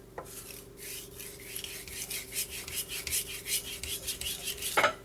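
A knife drawn from heel to tip across a wet whetstone makes a steady gritty rasp that repeats in quick, even strokes, close and fairly loud, with a light metallic ring at the end.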